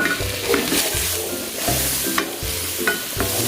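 Shrimp hits a pan with butter, garlic and onion and is stirred, giving a loud steady sizzle broken by repeated scraping strokes of a utensil, close up and without voices.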